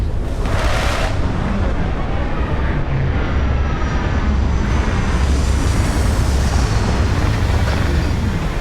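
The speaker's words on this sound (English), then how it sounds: "Retros firing." Spaceship retro thrusters fire during a landing in the game Starfield, a loud continuous roaring rush that stays steady throughout with a brief hissing burst near the start.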